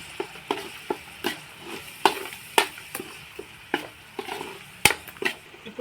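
Cauliflower and chana dal masala, with a little water added, is stirred in a pan, giving repeated sharp scraping strokes of a spoon over a low, constant sizzle.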